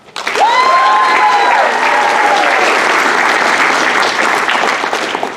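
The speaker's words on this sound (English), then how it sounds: "Everyone, please give a big round of applause to Lika" Loud, dense audience applause at a Pilipino Cultural Night at Stanford University, with a few cheers and whoops near the start, filling the whole stretch and easing slightly at the end.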